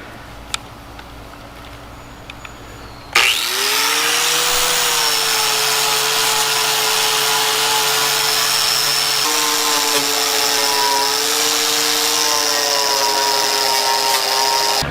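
A power grinder works on the tire of a 1975 Lincoln canoe: it starts abruptly after a quiet moment and keeps up a loud, steady high whine with a slight pitch shift partway through.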